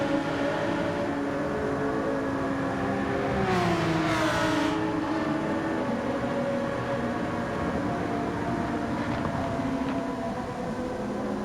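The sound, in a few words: race cars including a Porsche in a sim racing video game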